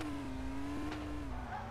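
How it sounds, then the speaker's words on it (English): A Lamborghini in the Car Simulator 2 game hums along with a steady, fairly quiet engine drone, its pitch holding level and dipping slightly near the end as it drives toward a garage. "I'm taking my Lamborghini car, because this is very precious car, and I'm gonna park it in my garage"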